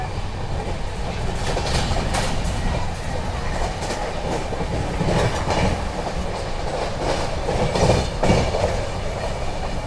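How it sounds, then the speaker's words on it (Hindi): Inside the 12380 Jallianwala Bagh Express running at about 110 km/h between Jalandhar and Delhi, a loud continuous rumble of rolling wheels and rattling carriages carries rhythmic clickety-clack beats throughout. "13 मिनट बिफोर दौड़ रही है अभी ट्रेन हमारी। अभी 110 kmph पे चल रही है।"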